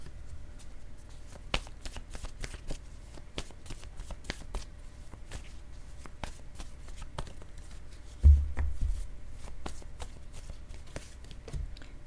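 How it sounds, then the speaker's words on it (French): Tarot cards being shuffled up close, a long run of crisp riffling taps and flicks in quick irregular bursts, with one heavier thud near the end. "Je vais demander une carte mot pour la carte finance et carrière."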